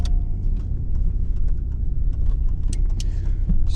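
A naturally aspirated Ford Sierra 2.0i Ghia drives along, heard from inside as a steady low engine drone and road rumble with a few light interior rattles.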